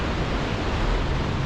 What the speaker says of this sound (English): Listen to those waves, wow!